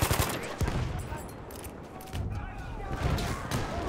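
Rapid MG14/17 machine gun fire in Battlefield 1 on the Amiens map, a dense continuous rattle of close shots with a booming low end, mixed with battle noise and voices.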